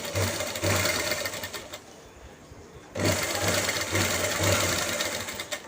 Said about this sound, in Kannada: ಈ ಥರ ಸೈಡಲ್ಲಿ ಸ್ಟಿಚ್ ಹಾಕ್ತಾ ಹೋಗಿ